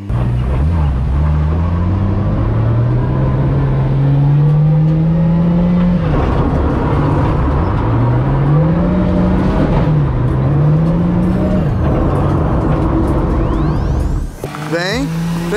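A Nissan 350Z engine revs hard while drifting, rising and falling loud and close through repeated climbs, with people talking over it and an abrupt rattling clatter near the end.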